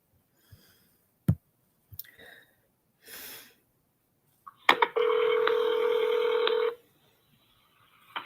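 A recorded 911 emergency call played back, opening with a few brief clicks and tones followed by a steady electronic telephone tone lasting about two seconds, with no talk.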